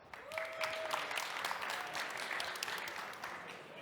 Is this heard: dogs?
no